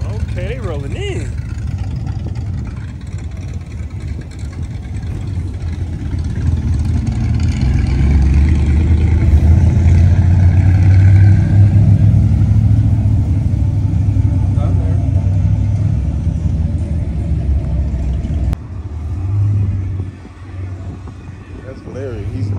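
Dodge Hellcats and SRT cars roll into a car meet, deep engines rumbling and building into loud revving that swells midway, with people talking nearby throughout.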